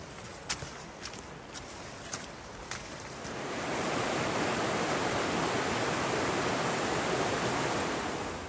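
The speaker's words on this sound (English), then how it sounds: "we're coming up to a weir which should be overflowing a bit" Broad, steady rush of water pouring over a river weir swollen after heavy rain, loud and close once reached, preceded by a few light footstep knocks while walking toward it.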